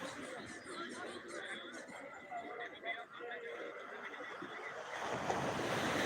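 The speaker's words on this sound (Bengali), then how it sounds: "তারই সঙ্গে জোয়ারের মুহূর্ত জল অনেকটাই এগিয়ে আরও বেশ ঘন্টাখানিক জোয়ার থাকবে" Sea waves rolling in at high tide on Digha beach, a steady wash of surf with wind noise on the microphone, swelling louder toward the end while someone talks over it.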